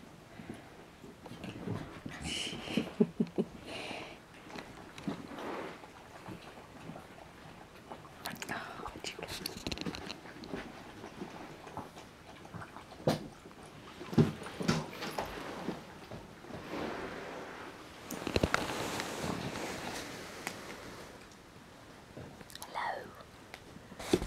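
Soft, close chewing and gnawing noises as a puppy chews on a camera, continuing irregularly with occasional rustles and thumps, as a voice speaks quietly now and then.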